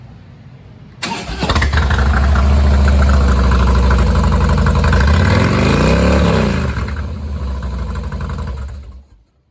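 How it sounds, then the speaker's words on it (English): A 2014 Harley-Davidson Softail Deluxe with a Vance & Hines exhaust fires up abruptly into a loud, throbbing idle. It swells through one rev, settles, then cuts off, with no talk over it. "Also has that Vance & Hines exhaust."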